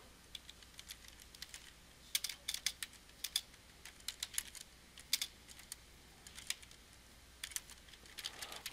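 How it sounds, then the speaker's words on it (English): Faint, close computer keyboard typing, clicking in irregular bursts and pauses over a quiet room hum. "I'm going to do typing."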